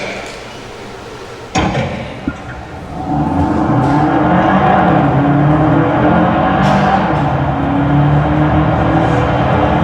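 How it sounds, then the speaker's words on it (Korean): A Hyundai hybrid car on a test track at the Namyang research center: after a sharp clunk, the engine surges into a loud, sustained acceleration roar that holds steady to the end. "지금 보여드릴 영상은 남양연구소 내 주행시험장에서 가속 성능 테스트를 하고 있는 영상입니다."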